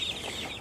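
Meat chickens in a grow-out pen built from a cold frame, heard as a low, continuous murmur of soft clucking at close range with no voices.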